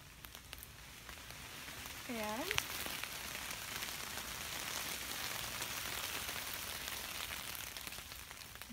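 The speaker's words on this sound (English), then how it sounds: "I think you just made it rain by shaking that tree." Water drops patter down like rain from a shaken tree along the Appalachian Trail, a soft steady spatter that fills the background, with a brief voice and a short squeaky sound early on.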